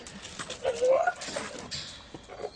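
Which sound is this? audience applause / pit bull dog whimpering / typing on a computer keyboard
pit bull dog whimpering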